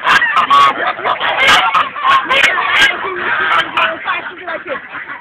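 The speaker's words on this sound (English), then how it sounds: "We're feeding the birds." A flock of geese honk loudly and continuously at close range while being fed, their harsh overlapping calls mixed with clucking fowl and people talking.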